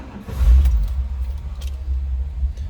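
A 1955 Ford Fairlane Crown Victoria engine cranks and catches, then settles into a steady, close, low rumble at idle with faint jingling alongside.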